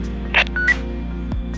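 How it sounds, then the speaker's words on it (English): An AnyTone DMR ham radio gives its analog idle channel tone: a short burst of bright electronic beeps lasting well under a second, close and clear over a low steady hum. "So my idle channel tone, which is analog, will sound something like this."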